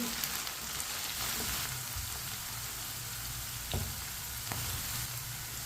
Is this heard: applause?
no